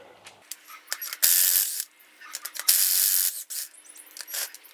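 A ratchet turning a 19mm socket on the rear axle of a Jeep KJ Cherokee with a Chrysler 8.25 differential, heard as several close, loud bursts of rapid clicking separated by short pauses.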